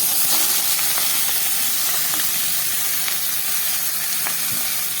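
Whole spices, onion and tomato sizzle steadily in hot mustard oil in a pan for dhaba-style shahi paneer, a continuous loud frying hiss with scattered pops and crackles throughout.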